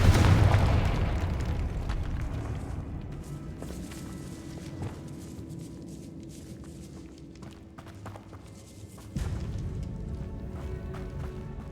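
A Confringo blasting spell in Hogwarts Legacy bursts with one loud, close explosion at the start. It fades into a long rumbling decay over quiet ambience with light footsteps and small pops.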